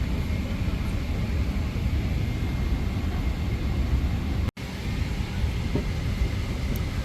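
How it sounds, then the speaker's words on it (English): Steady, loud broadband roar inside an Emirates Boeing 777 airliner as it is pushed back, with a constant low rumble of engines and cabin air and one brief dropout. "So almost half an hour after our plane was supposed to leave, we just started pushback."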